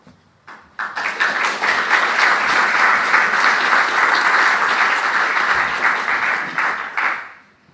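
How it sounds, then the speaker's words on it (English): An audience greets a lecturer at an academic talk with loud, sustained applause that starts abruptly after a brief pause, stays full and even, then fades away at the close. "Always good to get applause at the beginning, just in case."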